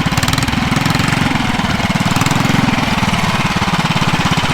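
A drag racing mini bike engine runs loud and close throughout, a steady, rapid low putter with a rough, pulsing beat and no talk over it.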